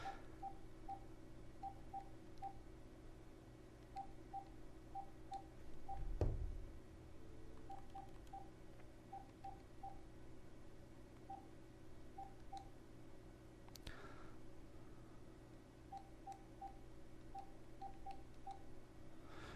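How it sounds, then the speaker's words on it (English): A series of DTMF keypad tones from a phone being dialed, short beeps in small clusters spread across the stretch over a steady low hum, with a brief thump partway through. "I got to track down his number and punch that into the phone"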